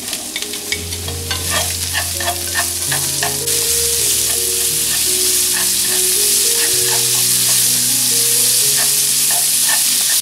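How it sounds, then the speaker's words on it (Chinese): Leeks sizzle steadily in hot oil in a wok, with a bright, continuous frying hiss. A spatula scrapes and clacks in repeated strokes as they are stir-fried, over a low background hum. "等着油烧热了以后加大葱进来"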